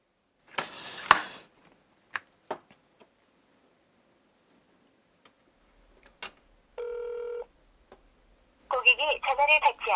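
An unanswered phone call: short beeps and clicks, then a steady ringback tone pulse, followed by an automated voice message, with a burst of speech at the start.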